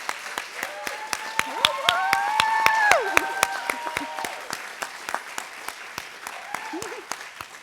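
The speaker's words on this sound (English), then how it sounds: "so let's just give our inductees another round of applause." Hall of Fame inductees receive a round of applause at an induction ceremony, sharp individual claps ringing out rhythmically in a hall while a voice carries on talking over them, the clapping continuing steadily throughout.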